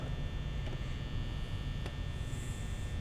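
Steady low electric fan hum in the Five Nights at Freddy's horror game, a constant drone with faint buzzing that runs unchanged and alone throughout.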